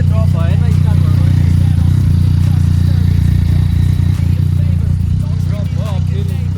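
Yamaha MT-09 motorcycle engine running just after minor servicing, a loud steady idle rumble close to the microphone with faint clatter, and a few voices in the background.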